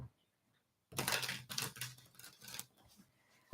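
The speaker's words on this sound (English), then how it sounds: "I'm just hanging out, just shuffling the cards because I don't know what to do with my hands" A deck of playing cards is shuffled by hand during a live psychic reading, giving a run of brisk riffling and snapping bursts close by after a second of silence, trailing off into quieter handling.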